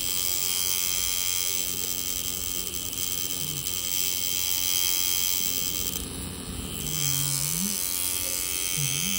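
An electric tattoo machine buzzes continuously and loudly while a finger is tattooed, a close, steady whine that dips briefly midway and then resumes, with faint low voices underneath.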